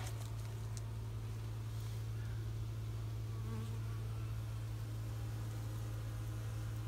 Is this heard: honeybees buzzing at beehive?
yes